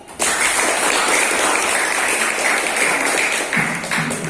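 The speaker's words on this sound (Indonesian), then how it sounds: "Kita berikan tepuk tangan yang meriah." Classmates clap for a group that has just finished a presentation in a school classroom, a sudden burst of dense, bright applause that holds steady and then thins slightly toward the end.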